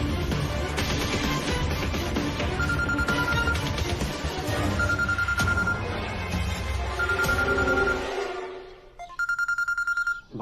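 A telephone rings repeatedly over a dense, busy musical background, then a clearer electronic ring tone sounds alone near the end.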